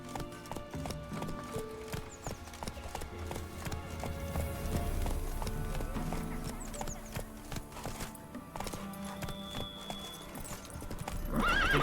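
Hooves of the horse Roach clip-clop at a steady gallop in The Witcher video game, with a whinny, held fairly close and continuous over a bed of game sound, with a voice speaking briefly.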